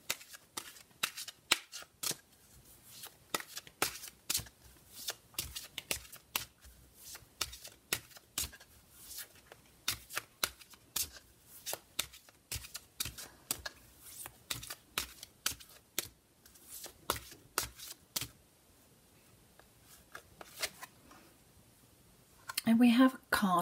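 Oracle cards are shuffled by hand in close, quick riffling bursts of crisp card flicks that repeat irregularly over a long stretch, ending with a few louder handling sounds.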